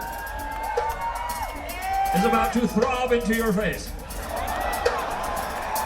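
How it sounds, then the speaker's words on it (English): Cheering and whooping from a big festival crowd at Bonnaroo 2008, loud and sustained, with someone speaking over the roar. "That crowd reaction is excellent."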